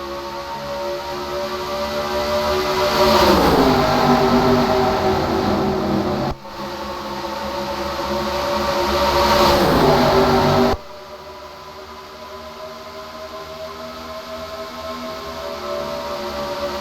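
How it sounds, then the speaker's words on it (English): Race cars at Pocono Raceway roaring past as the field starts, two long swelling passes that rise and fall in pitch before cutting off abruptly, followed by a steadier distant engine drone. "Get ready to kick things off from the Tricky Triangle. Pocono Raceway."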